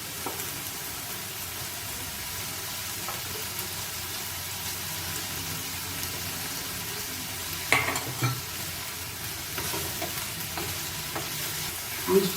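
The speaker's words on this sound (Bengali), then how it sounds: "চিংড়ি মাছটা তো ভাজাই আছে, এবারে চিংড়ি মাছটা দিয়ে দেবো।" Prawns frying in a pan for Bengali shapla chechki, a soft continuous sizzle with a few louder stirring scrapes near the end, close and without talk.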